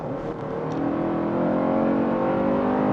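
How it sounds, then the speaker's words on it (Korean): Kia K8 2.5 sedan accelerating hard through paddle-shifted gears, its engine note rising steadily in pitch and growing louder as revs climb, heard from inside the car with no talking. "패들 시프트를 써서 한번 가속을 해보겠습니다."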